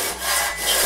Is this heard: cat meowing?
no